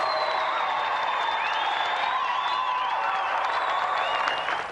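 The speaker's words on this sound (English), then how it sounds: "Another round of applause for our gallant competitor, Peter Walters." Steady, dense applause from a crowd fills the whole stretch, with faint cheers and voices mixed in before it starts to fade.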